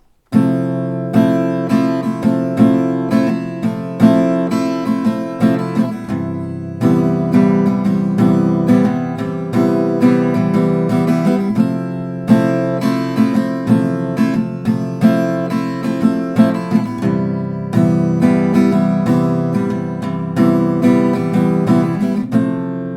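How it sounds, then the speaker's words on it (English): Steady acoustic guitar strumming full chords in a continuous rhythm, bright and close, with no voices. "you will clearly hear this guitar playing exactly like this"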